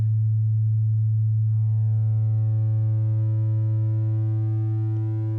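Abstract Data ADE-30 Wave Boss synth module sounding a steady sustained tone whose upper harmonics gradually thicken and brighten as the waveform is clipped harder, alone and constant.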